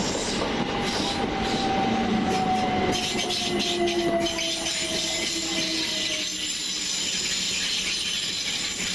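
Thameslink and Govia trains, including class 387 and 442 units, pass through East Croydon station with a loud steady rumble of wagons and long high wheel squeals running alongside.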